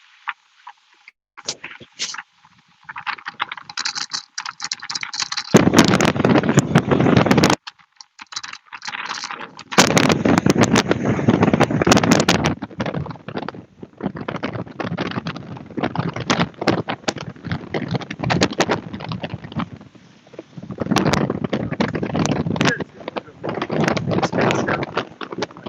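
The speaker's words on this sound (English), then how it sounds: "The wind's trying to push me to the ledge here." Strong hurricane wind from Hurricane Sally roars loud and close in sustained broadband gusts with brief lulls, buffeting the microphone, while a person speaks intermittently beneath the roar.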